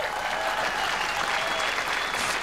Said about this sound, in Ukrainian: оплески на їх адресу